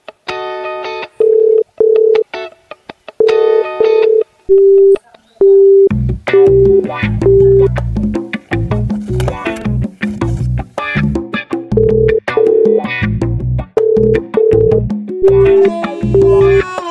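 Telephone call tones repeat in steady beeps during an outgoing call, with short gaps between, set over a loud, busy background of overlapping music-like sound.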